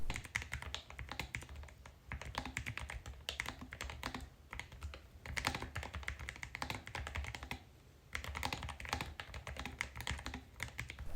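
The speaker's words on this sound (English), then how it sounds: "this really adds to the typing experience, both in the sound and just in the feel of the keyboard itself" Rapid typing on a Lofree Flow low-profile mechanical keyboard up close, crisp clacking keystrokes in quick bursts with brief pauses between them.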